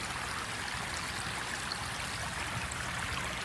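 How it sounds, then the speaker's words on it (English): Stormwater runoff pours off a road like a small waterfall, a steady, dense rush of flowing water that continues without a break and stays close and fairly loud throughout. "Almost like a small waterfall."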